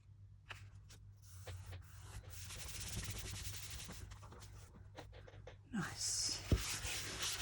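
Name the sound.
sanding edges of junk journal book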